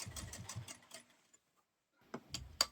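A domestic sewing machine stitching a blouse seam runs in a quick rhythmic burst of needle strokes, pauses in near silence, then starts again with a short final run, close and fairly quiet.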